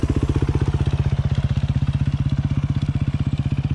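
Motorcycle engine running for a wheelie attempt, a loud close chugging pulse with a steady rapid beat that holds at a fairly constant pitch, no speech heard.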